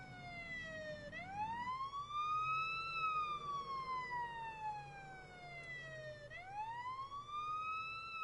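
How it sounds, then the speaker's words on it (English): Ambulance siren in a city patrol video game, a continuous wailing tone sweeping slowly up and down in long cycles, steady and moderately distant over a low rumble. "I wonder how far that ambulance needs to drive"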